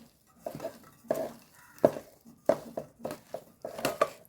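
Cooked tapioca with coconut oil being stirred in a pot, a spoon scraping and knocking against the metal in about eight rhythmic strokes, close and moderately loud.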